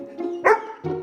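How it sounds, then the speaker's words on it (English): A dog gives a short, close bark or yip, a single sharp burst between softer whining tones, heard alone without talk. "And Henry barked."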